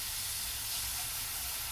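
Chopped onion hits a hot pan and sizzles in a steady, even hiss that holds at the same level throughout, close and with no voices.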